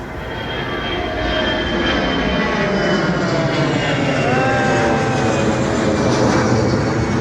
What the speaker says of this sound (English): That's an unusual plane, it's red.